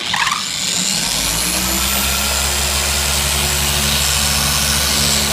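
Steady electric polishing machine running on a Porsche 996 plastic headlight, a continuous close whirring drone with a low hum that holds even, rising slightly as the speed is raised, with no talk over it.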